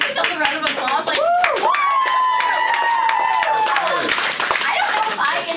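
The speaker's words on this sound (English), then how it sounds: "Like everyone give themselves a round of applause." Audience applause at a youth camp meeting, with dense hand clapping throughout while a voice speaks and a sustained sung or shouted tone rises over the clapping.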